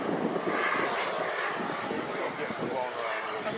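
A Eurosport RC model jet cruises past steadily with a continuous turbine whoosh, moderately loud and smeared by gusty high wind against the microphone, with no voices over it.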